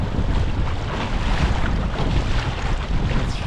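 Loud, constant wind buffeting the microphone with a broad rushing roar, water and hull noise mixed underneath, aboard a Hobie Tandem Island sailing kayak.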